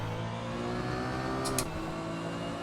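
Porsche 911 GT1 turbo engine in Assetto Corsa accelerating smoothly, a steady droning race-car engine note with a brief sharp hiss midway through.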